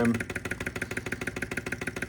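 A PM Research Ryder Ericsson hot air Stirling engine runs at a steady, fast mechanical rhythm, with evenly spaced chuffing beats repeating several times a second, close and clear.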